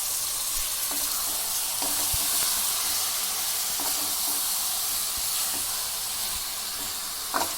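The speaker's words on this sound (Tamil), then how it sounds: "பாருங்கள், சிக்கன் நல்லா ஃப்ரை ஆயிடுச்சு." Marinated chicken frying in a pan with ginger garlic, a continuous bright sizzle throughout with soft periodic clinks and scrapes of stirring, close and steady.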